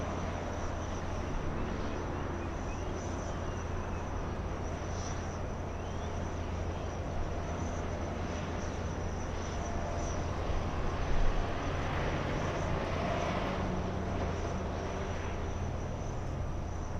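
A Southwest airliner on its takeoff roll from runway 24 left at LAX gives a steady, distant broadband jet roar, constant in level for the whole stretch with a slight swell near the middle.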